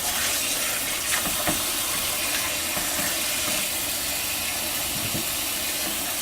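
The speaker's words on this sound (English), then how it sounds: "give it a little bit of a wash in cool running water" Cool tap water runs steadily over beets and eggs in a kitchen, a constant close hiss of flowing water with faint clinks under it.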